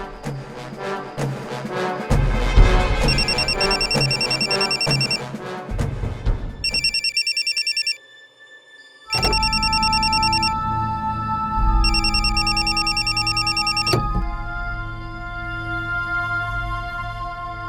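A telephone rings out after a call is placed: repeated bright electronic ring bursts with short gaps between them, loud and close, following a brief passage of music.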